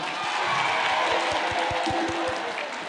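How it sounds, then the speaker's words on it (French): A crowd at a Guinean election campaign rally applauds and cheers in a steady, loud wash of clapping and voices, with a rhythmic low thumping running underneath throughout. "Applaudissez pour vous-même"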